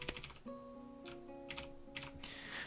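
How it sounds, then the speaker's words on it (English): Quiet computer keyboard typing comes in irregular bursts of soft clicks with short pauses between them, close and faint over a low background hum. "Tap away at the keyboard."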